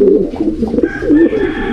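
Pigeons cooing close by in a loft, low rolling coos repeating in soft bursts through the short stretch with no talking.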